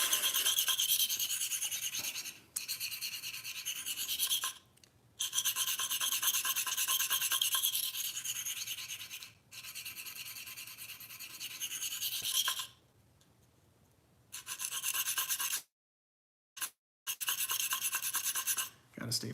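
A Cruwear steel knife edge rasps back and forth across a Venev sharpening stone in long, close scraping passes, with brief pauses between strokes and a quieter stretch near the end.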